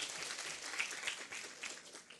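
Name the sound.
audience applause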